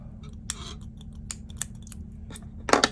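Scissors snip through yarn several times in quick, uneven cuts, close and crisp, with a final cluster of rapid snips at the end.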